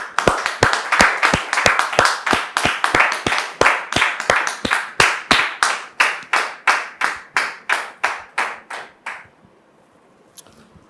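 A studio audience claps in unison to welcome a guest's son, with loud, sharp, evenly spaced beats that gradually slow over about nine seconds before stopping abruptly, followed by near silence.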